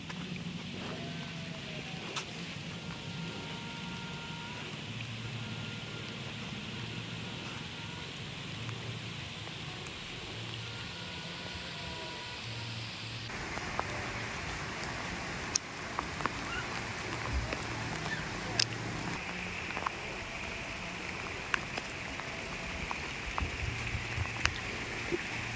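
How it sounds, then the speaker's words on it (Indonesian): Steady rain falling on a mountainside village, a constant wash of noise with scattered drop impacts that grows denser and heavier partway through, and no voices. "Hujan hujan deras."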